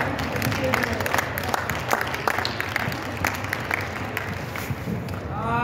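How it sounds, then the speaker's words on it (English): An indoor crowd at a youth basketball orientation applauding steadily, a dense wash of clapping that holds at an even, fairly loud level throughout. "give yourselves a round of applause"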